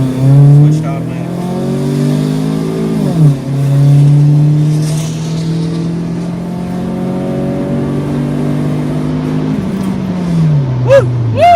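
A 2003 Acura RSX engine revs hard in first gear, climbing in pitch into VTEC in long loud pulls, dropping briefly between runs, with short whoops of voices near the end.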